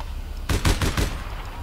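Gunfire in the online shooter APB Reloaded sounds as a short burst of four quick shots, a fairly close rapid rattle that stops abruptly.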